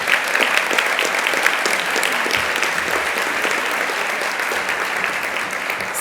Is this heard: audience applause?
yes